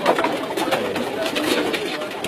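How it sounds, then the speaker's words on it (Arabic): Racing pigeons coo softly and steadily in a loft, their murmuring calls overlapping continuously, with some voices audible in the background. "الطيور جاهزة وحمام حلو مرتب"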